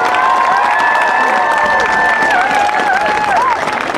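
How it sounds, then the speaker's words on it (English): Outdoor stadium crowd at a marching band performance gives a loud, sustained round of applause and cheering for the senior class, a dense continuous roar with raised voices. "Please join us in a final round of applause for our senior class."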